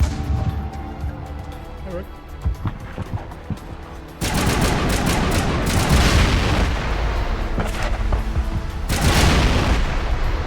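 Rockets explode during combat in Mass Effect: after scattered gunfire, a loud blast hits and leaves a sustained roaring rumble, then a second explosion swells near the end, with a voice speaking briefly under the noise.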